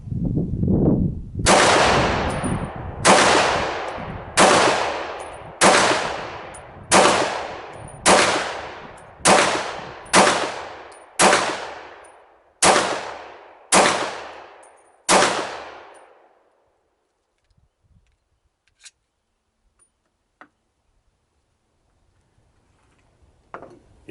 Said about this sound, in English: I'm going to go ahead and shoot some more of this Remington stuff, or the Winchester ammo.